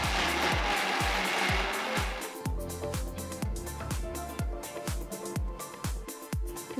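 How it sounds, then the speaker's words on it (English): An electric wet grinder working urad dal batter, a steady mechanical whir with a regular thumping churn repeating roughly every half second, loud and close. "So I'm just going to grind it a little more."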